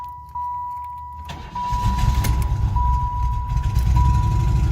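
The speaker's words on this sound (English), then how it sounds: "I want to turn my engine back on" A 1990s Chevy engine cranks over after a chime and settles into a loud, steady idle, with a dash warning tone sounding at regular intervals above it.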